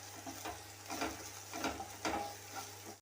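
Okra being sautéed in a pan for a Tamil buttermilk curry, a soft steady sizzle with a few gentle stirring scrapes repeating under a constant low stove hum, close and fairly quiet.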